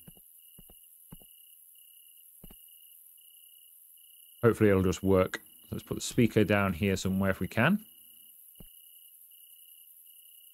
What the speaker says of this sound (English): I wish those crickets would go away.